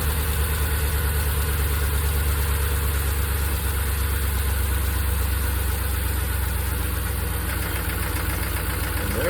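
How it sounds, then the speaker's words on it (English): A Hemi engine idling with a lifter tick, a steady close rumbling idle with a faint rapid ticking running through it, alone and unbroken. "Not a normal lifter noise"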